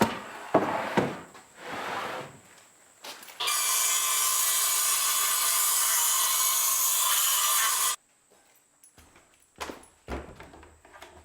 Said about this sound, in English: Now I can cut a 2x10.